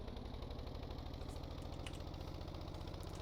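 A tractor engine in the Stormworks building game runs at a steady idle indoors, with an even, rapid mechanical chug held at a constant moderate level throughout.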